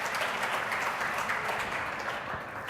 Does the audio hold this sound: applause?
yes